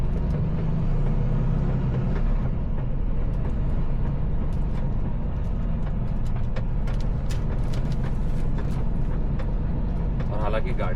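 A truck pulls away from a motor vehicle inspection in Saudi Arabia, its engine rumbling low and steady from the cab throughout, with faint clicks and rattles on top and no talking heard.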